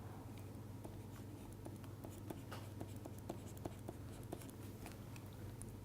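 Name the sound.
writing an equation during a lecture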